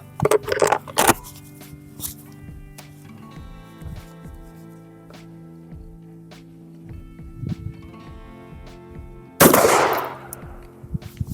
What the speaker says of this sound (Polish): Ok, jestem na 30 metrach. E, strzelamy ze śruta.